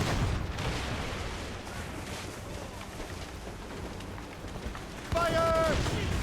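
Naval cannon fire in a video game sea battle, heard as a low, rumbling wash of distant booms that swells into a louder, sharper blast near the end, with no talk.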